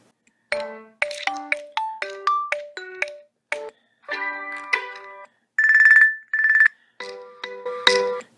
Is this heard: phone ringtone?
yes